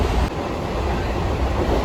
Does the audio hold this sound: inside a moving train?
yes